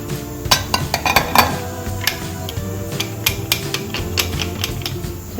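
A spoon scrapes and taps ground garlic, ginger and coriander-stem paste into a small bowl, giving a string of close metallic clinks and knocks.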